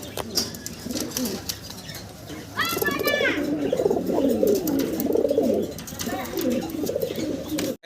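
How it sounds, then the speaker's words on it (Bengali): A pair of jet-black Mukhi pigeons coo in low, repeated rolling phrases for several seconds, close and fairly loud, with a short chirp mixed in and a person talking nearby. "জি, মুখী কবুতর দর্শক, খুব সুন্দর একটা জোড়া।"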